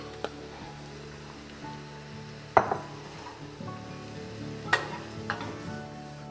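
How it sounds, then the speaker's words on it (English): Mushrooms sauté in a pan for a bruschetta, giving a soft, low sizzle broken by a few sharp utensil clinks and scrapes against the pan, all quiet and close. "now we're going to add in those gorgeous mushrooms, and we're going to saute for about 4 to 5 minutes"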